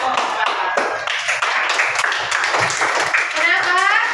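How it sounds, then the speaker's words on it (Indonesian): Students clap for a group in a classroom. The clapping is loud and close, with excited voices mixed in throughout. "Tepuk tangan dulu untuk kelompok 4"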